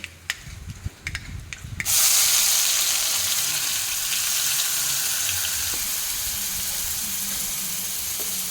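Mustard seeds tempering in hot oil for shavige oggarane give a few sharp, sparse pops, then a sudden loud sizzle that holds steady and close to the end.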